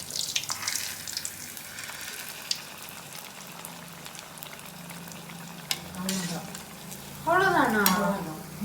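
Adhirasam, a sweet Diwali dough snack, frying in hot oil and being turned over like a puri, giving a steady close sizzle with scattered utensil clicks and a louder, denser bubbling burst near the end.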